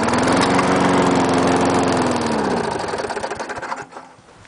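An old Murray/Toro lawn mower engine, started cold, runs loud and close with a rough buzzing drone, then sputters and dies away after about four seconds.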